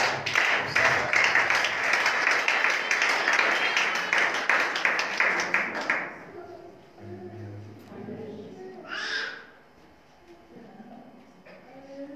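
A church congregation at an evangelism programme breaks into loud, dense clapping and cheering for about six seconds, then it fades to scattered taps and sparse sounds.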